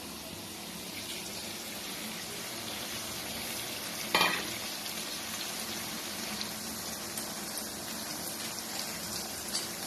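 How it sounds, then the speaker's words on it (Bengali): Grated onion and ginger-cumin paste are added to potatoes browning in hot oil for a home-style chicken biryani, giving a steady close sizzle with a brief louder spatter partway through and no talking. "এবারে আমি ঘষে রাখা পেঁয়াজটাকে দিয়ে দেব দিয়ে দেবো আদা জিরে বাটা"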